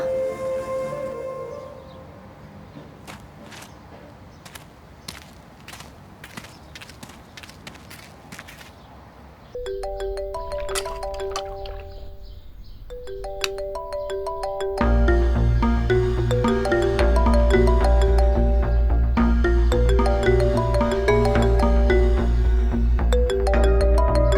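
A phone ringtone plays a repeating electronic melody, starting with sparse tinkling notes and building into a louder, fuller tune with a steady beat.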